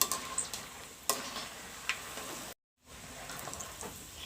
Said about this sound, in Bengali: বাদামটা একটু সময় নিয়ে ভেজে নিতে হবে।